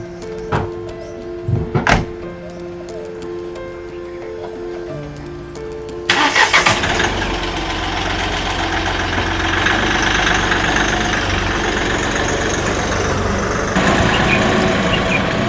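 A car engine cranks and catches, then settles into a steady, fairly loud idle that runs on alone, preceded by a few clicks and knocks like a door or key.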